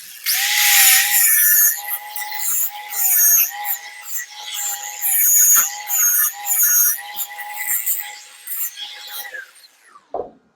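A power tool with a flap disc sands metal on a vehicle's rear end in steady bursts of loud, high-pitched grinding with a whining motor tone, pausing briefly between passes before spinning down to a stop at the end.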